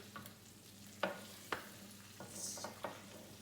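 Quiet, steady sizzling of hot roasted tomatoes in a pan, broken by a few sharp scraping taps from a utensil stirring, with no talking.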